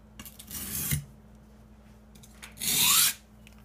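Steel knife blade drawn across a coarse whetstone, two distinct gritty rasping strokes, the second louder and longer, with a quiet pause between them and no voices.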